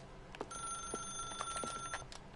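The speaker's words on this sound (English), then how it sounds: "As Stanley picked up the phone" Telephone in The Stanley Parable video game ringing with a steady electronic tone, fairly quiet, repeating in short pulses over about two seconds with no voices.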